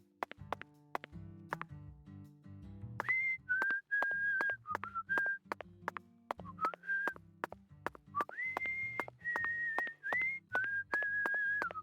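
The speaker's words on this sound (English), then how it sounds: "I love when he just whistles the song from the first game" A character in the Deadly Premonition 2 video game whistling a melody, clear sustained notes in phrases over a plucked backing tune, close and prominent without talk.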